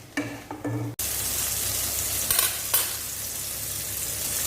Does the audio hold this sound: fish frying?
yes